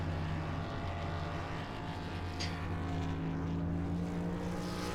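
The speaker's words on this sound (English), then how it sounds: "guys revving up the engines, getting ready for the pace lap" Indoor racing karts revving their engines on the grid before a pace lap, a steady loud engine drone filling the track hall with overlapping motor tones and no talk over it.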